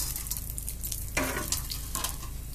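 Chana dal, urad dal and garlic roast in a pan with a steady sizzle and a few scraping stirs, close and moderately quiet.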